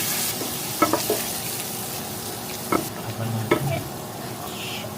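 Chopped garlic sizzles steadily in a pan of hot oil and butter, with a few sharp utensil knocks and scrapes against the pan over the constant frying hiss.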